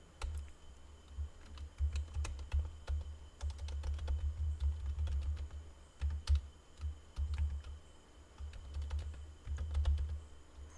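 Steady typing on a computer keyboard, with rapid clattering keystrokes running continuously at close range and a low hum underneath, no voices.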